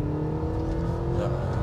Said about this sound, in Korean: 힘을 끌어모으면서 속도를 올려갑니다.